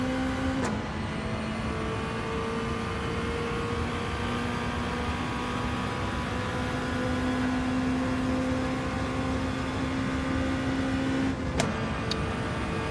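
A car engine in the racing game Gran Turismo 7 holds a steady, high-revving harmonic drone for the whole stretch, with brief breaks near the start and the end and no talk.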